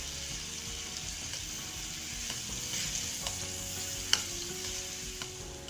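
Spices and tomato puree fry in a pan for Amritsari Pindi chole, giving a soft, even sizzle with occasional faint stirring taps.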